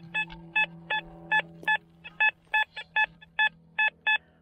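Metal detector giving a repeated signal tone while searching for Roman-era relics, a dozen or so short, evenly spaced electronic beeps over a low steady hum, close and clear.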